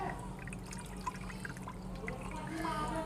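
Whey trickling and draining from homemade mozzarella cheese curds, a steady soft watery hiss with faint drips throughout and quiet voices in the background.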